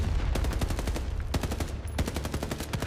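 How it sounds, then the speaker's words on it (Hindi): Heavy animated gunfire in a desert border firefight, rapid machine-gun bursts hammering in a steady loud rhythm over a dense rumbling backdrop, with no voices. "और फिर भारी फायरिंग शुरू।"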